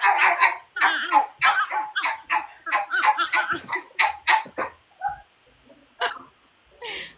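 A corgi gives a rapid run of short, sharp barks, close by and loud, then a few scattered yips after a brief pause.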